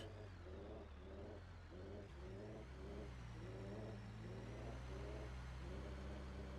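In BeamNG.drive a weak, gutless car engine sputters and stumbles in a steady rhythm, its uneven pulses repeating about twice a second over a constant low drone, with no talking.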